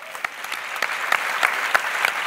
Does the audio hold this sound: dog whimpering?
no